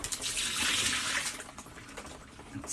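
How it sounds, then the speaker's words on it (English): Steady running tap water splashing into a hand blender jug while it is rinsed in a kitchen sink, a continuous close hiss and spatter with no talking. "I'm just going to rinse it out quickly so it doesn't damage it."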